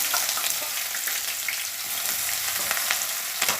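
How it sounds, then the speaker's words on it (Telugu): Onion pieces fry in hot oil, a dense, close crackling sizzle that holds steady for a few seconds with small pops and stirring sounds. "ఉల్లిపాయ ముక్కలు చక్కగా ఏగుతున్నాయి"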